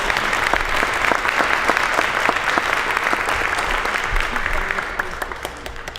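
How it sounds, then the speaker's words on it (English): A crowd gives a firefighting crew a round of applause, dense sustained clapping from many people that holds steady and then thins slightly near the end, with faint voices underneath. "if everybody can give them a round of applause"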